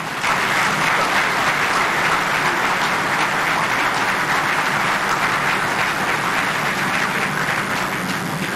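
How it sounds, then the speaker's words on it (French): An audience at a ceremony applauds parents, a full, loud and steady wave of clapping that carries on unbroken from start to finish with no voices over it. "J'aimerais que nous prenions un moment pour applaudir ces parents extraordinaires que vous êtes."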